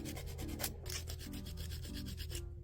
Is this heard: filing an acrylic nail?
yes